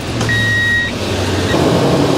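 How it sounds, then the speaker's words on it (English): A truck engine cranks and catches, preceded by a short electronic beep, then settles into a loud, steady idle rumble close by. "Now we can go start the truck"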